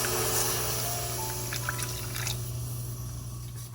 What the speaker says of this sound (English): and we'll add the water.